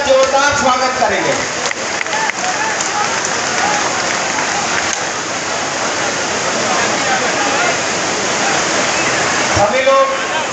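A rally crowd at a Congress protest in Rewa claps to welcome the party state president, producing a dense, sustained wash of applause that holds for several seconds, with an amplified voice briefly heard at the start and end.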